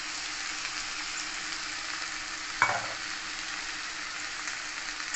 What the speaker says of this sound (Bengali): চালটা ভালো মতন ভেজে নেব